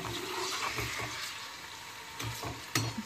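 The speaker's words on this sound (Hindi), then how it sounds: "इस तरीके से ये फ्राई करते रहेंगे।" Chicken frying in a kadhai for white chicken kadhai, a steady hiss of sizzling oil broken by a few louder stirring scrapes and spits near the end.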